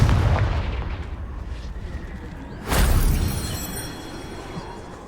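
A Confringo blasting spell explodes in the video game Hogwarts Legacy, landing as one loud, sudden boom partway through over a rumbling background that then fades away.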